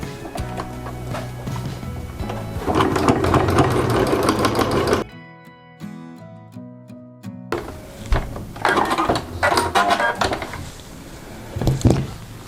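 A domestic sewing machine stitches quilt-as-you-go blocks, its needle chattering in quick, even bursts with a short quiet pause in the middle, close and loud.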